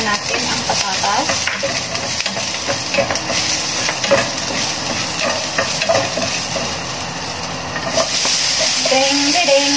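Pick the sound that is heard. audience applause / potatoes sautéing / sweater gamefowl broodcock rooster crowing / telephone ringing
potatoes sautéing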